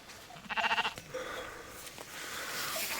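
A lamb caught on a bush up a slope bleats once, a short wavering cry at moderate distance, over soft outdoor ambience.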